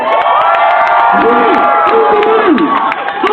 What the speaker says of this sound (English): If you like it, you cheer.